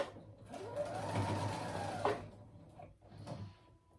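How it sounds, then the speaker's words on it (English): A sewing machine runs a long straight stitch along a dress strap and facing, a steady mechanical whir for about two seconds, then short follow-up bursts. "I'm just using the longest straight stitch on my sewing machine"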